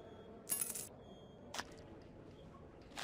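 Cartoon coins clink down as change is handed back to a railway passenger at a hippo's station, two bright metallic jingles about a second apart with a lighter tinkle at the end, over quiet background.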